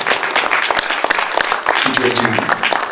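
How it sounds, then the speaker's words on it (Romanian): A book-launch audience in Onești bursts into dense, loud applause that runs throughout, with a voice speaking over the clapping near the end. "Vă rog aplauze pentru Nicola."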